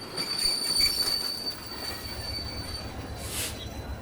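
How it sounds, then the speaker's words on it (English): A train rolls into a station, with a steady low rumble of wheels on rails, a thin high squeal of braking wheels and a short hiss near the end, fairly close and without voices. "As the train stops in the station"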